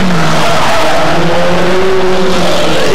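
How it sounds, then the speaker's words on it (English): Hot-rod race cars from 1996 screech their tyres while cornering on a track, a loud, continuous squeal with wavering pitch over heavy engine roar, very close and saturated. "we can hear the screech of tyres there as they head around the bottom corner there"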